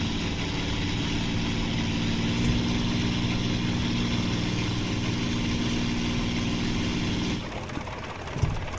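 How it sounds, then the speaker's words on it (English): A piston aircraft engine in the combat flight game Aces of Thunder drones steadily with a harmonic idle-like hum, then cuts off near the end, leaving quieter background noise and a small clunk. "Alright, that's engine start and stop."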